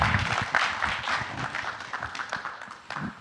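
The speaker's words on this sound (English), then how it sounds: "Please give a round of applause to our fantastic panel here." A conference audience in a hall at a 2024 tokenization event claps for a panel, giving sustained, moderately loud applause with faint voices mixed in.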